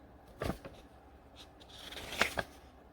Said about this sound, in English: If I can get the pages turned.